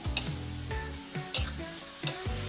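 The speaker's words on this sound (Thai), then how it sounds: "ใส่ ปลาดุกทอดของเราลงไปได้เลยครับ แล้วก็ผัดให้เข้ากันอีกสักเล็กน้อยนะครับ" Fried crispy catfish is stir-fried with basil and curry paste in a wok: sharp metal scrapes land roughly every half second over a constant close sizzle.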